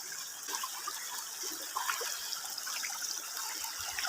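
A strong river current rushes and gushes steadily nearby, a continuous broadband wash of water with no voices over it.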